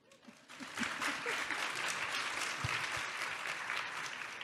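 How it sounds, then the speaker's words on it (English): Audience applause at a youth forum session, clapping swelling in after a brief quiet opening and holding steady and moderately loud, with a few scattered low thumps. "Go ahead, you can applaud."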